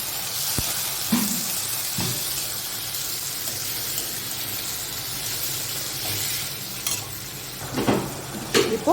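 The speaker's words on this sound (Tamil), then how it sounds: "இப்போது இதெல்லாம் நல்லா வதங்கட்டும்" Onion, medium tomatoes and green chili sautéing in a pan for a Tamil mochai kulambu, with a steady close sizzle and a few scrapes and clinks of a utensil toward the end.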